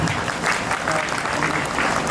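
Guests clap after a dance at a wedding haldi and mehndi ceremony, a brief modest burst of applause from a small crowd, fairly close and even.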